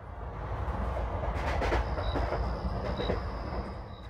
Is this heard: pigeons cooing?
no